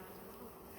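Bees stirred up after their hives are broken apart with a brick, a dense, steady buzzing swarm filling the air at close range, with no voices.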